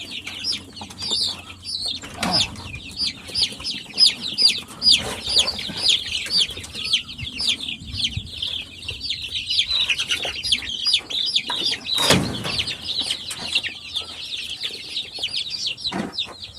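Chickens, both roosters and hens, cluck and chirp close by in a steady, busy chorus that runs throughout, with brief louder squawks now and then.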